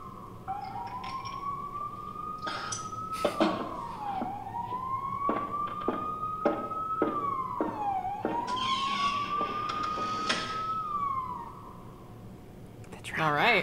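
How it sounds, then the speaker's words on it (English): Wailing sirens from a board game's audio sweep up and down in repeated rising-falling cycles, moderately loud, with brief clicks and a voice interjecting near the end. "Two sirens."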